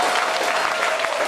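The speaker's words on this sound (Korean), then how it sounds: "여기 박수 한번 보내주시겠어요?" Audience applause during a Seoul mayor's speech about Gangbuk, a steady dense wash of clapping from a crowd throughout, fairly loud and unbroken.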